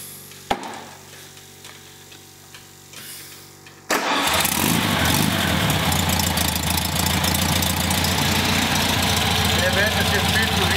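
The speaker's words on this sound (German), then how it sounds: "Dazu starten wir den Motor jetzt erstmal" Air-cooled VW Beetle engine, freshly reassembled, cranking and catching after a few quiet seconds with a single click, then settling into a loud, steady, rattly idle that runs to the end.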